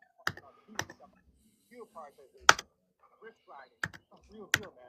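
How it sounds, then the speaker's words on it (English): Sharp, isolated clicks of a computer keyboard being typed on, about six spaced keystrokes, with a person talking in between. "He's typing it in himself."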